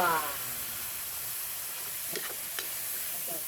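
A small splash of water hits a hot frying pan while eggs and beans are stir-fried, giving a steady, close hiss and sizzle with a few light utensil taps partway through.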